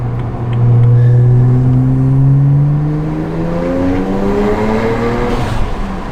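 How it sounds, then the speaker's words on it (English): A straight-piped BMW exhaust idles with a loud, steady low drone and rising harmonic tones, like light revving, close to the microphone with no talk. "the car sounds absolutely amazing. It sounds great at idle."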